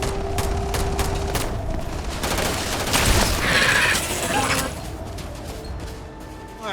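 Gunfire rings out during a firefight in the video game Starfield, with a dense, rapid string of shots, crashes and bursts that swell toward the middle and carry on steadily throughout.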